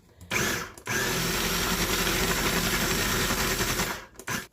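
A food processor pulses spices for homemade pumpkin pie spice, giving a short burst and then a longer loud whirring run of about three seconds before it stops, heard alone.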